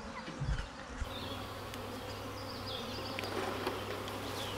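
Honey bees buzzing around an open hive that is being filled and capped with honey, a continuous close hum with individual bees droning past.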